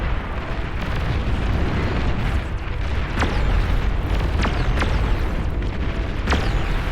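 Explosions in the strategy game Beyond All Reason: a dense, loud rumbling barrage of booms with several sharper blasts standing out over the continuous roar.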